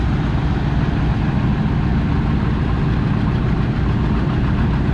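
A big John Deere 830 pulling tractor idles at a tractor pull, its engine a steady, loud, close low rumble with no break.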